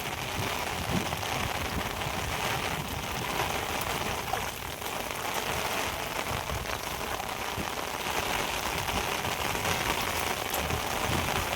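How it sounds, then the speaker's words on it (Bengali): Steady, heavy rain pours down continuously over a rice paddy field, a dense hiss of drops drumming on a surface, close and loud with no voices. "অনেক বৃষ্টি শুরু হয়েছে"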